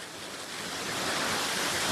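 Broad, steady rushing roar of Elephant Falls waterfall in Meghalaya, a continuous wash of falling water that swells slightly louder toward the end, with no voices.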